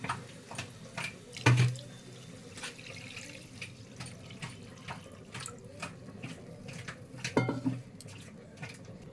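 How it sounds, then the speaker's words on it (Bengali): Water poured into an egg curry pot with potatoes, a low watery rush and sizzle between two clear clanks of a metal pot or utensil. "পরিমাণ মতন জল দিয়ে দিয়েছি"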